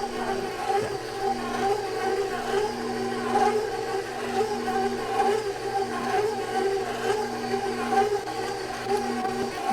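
A mixer kneads challah dough with a steady mechanical whir and hum, carrying a faint rhythmic slap as the dough turns, continuous and fairly close.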